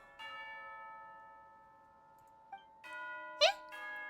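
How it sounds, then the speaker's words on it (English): A game bell in Genshin Impact rings out for tea time with sustained harmonic tones, fading, then struck again twice with brighter, louder peals near the end, alone without voices. "You hear the sound of a bell."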